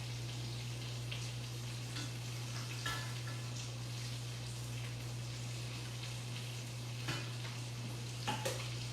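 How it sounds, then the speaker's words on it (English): Chicken pieces sizzling in a skillet, a soft, steady frying hiss with a low electrical hum underneath and occasional clinks of utensils against the pan. "I'm literally just putting these pieces of chicken down in the skillet"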